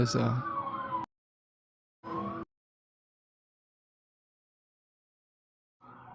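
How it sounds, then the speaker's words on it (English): An ambulance or fire truck siren wails in short broken stretches separated by silence as it passes by, fairly faint and distant. "there's your daily ambulance /"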